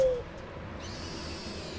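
An owl hoots once as a call in the prehistoric game Far Cry Primal, clear and fairly close over a low ambient bed, then a soft airy whoosh follows.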